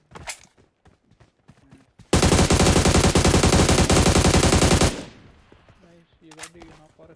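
Loud automatic gunfire in a video game rips out as one sustained burst lasting about three seconds. Quieter clicks and game sounds come before and after it, and voices talk faintly in the background.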